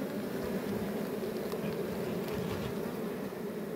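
Bees swarm and buzz around a honeycomb hive full of honey set in a cliff rock face, a dense continuous drone heard close and steady with no talk.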